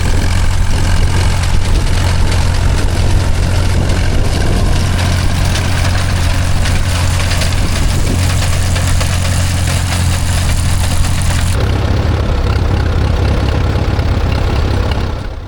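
A vintage McCormick Deering W12 tractor engine runs loud and close with a steady low throb and rattle, shifting slightly in tone partway through.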